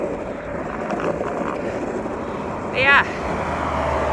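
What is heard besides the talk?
road traffic passing beside trail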